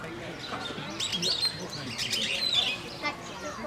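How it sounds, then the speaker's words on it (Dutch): Small birds chirp and tweet in quick, faint bursts near a nest overhead at Blijdorp zoo, over a low background murmur. "Kijk, er zitten ook andere vogels."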